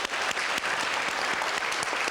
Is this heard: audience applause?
yes